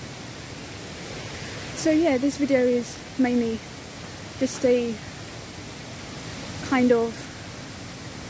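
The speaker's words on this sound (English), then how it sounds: "So I will show you guys a video of the waterfalls that I have seen, and yeah, I'm getting near one right now, you can hear it." A waterfall in the Scottish woods sends up a steady, soft, rushing hiss that runs throughout beneath a person talking close by.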